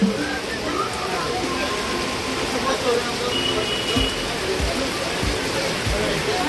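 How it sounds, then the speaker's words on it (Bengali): Heavy evening rain pours in a steady, dense roar close by, with a few low thumps and a faint voice in the background. "মারাত্মক বৃষ্টি, দেখুন কী অবস্থা।"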